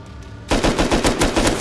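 Automatic gunfire in the video game Rust erupts as a rapid, loud burst of close shots in a tight rhythm after a brief quieter moment.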